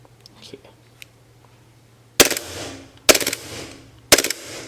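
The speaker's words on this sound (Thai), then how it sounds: "ลองปรับเป็นโหมดออโต้บ้างนะครับบางครั้งก็จะยิงออโต้ได้บางครั้งก็ยิงไม่ได้นะครับ" A secondhand WE G26 gas blowback BB pistol fires in automatic mode, three sharp, loud, rapid bursts close by, each with a clattering rattle, after a few quiet handling sounds.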